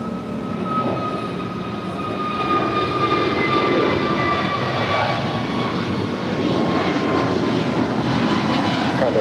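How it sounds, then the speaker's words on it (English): An Alaska Airlines Airbus A321neo departing Los Angeles International Airport for Washington National, its jet engine roar steady and loud with whining tonal lines, swelling slightly after the first couple of seconds and holding strong throughout. "This is Alaska Flight 6 departing to Washington National. It's an A321neo."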